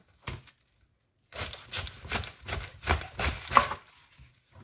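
Green papaya being shredded into strands for som tam, a close run of rapid scratchy shredding strokes after a brief opening burst and a pause, fairly quiet.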